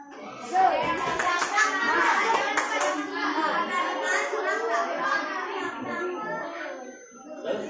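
A classroom of children performs the tepuk semangat clapping chant, with rhythmic hand claps mixed with lively young voices chanting together, close and fairly loud throughout.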